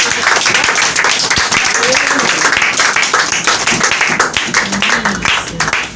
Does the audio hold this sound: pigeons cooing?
no